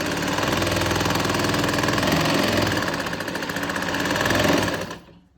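An electric sewing machine stitches a salwar, running continuously at high speed with a loud, close, rapid mechanical chatter that holds for several seconds before stopping abruptly.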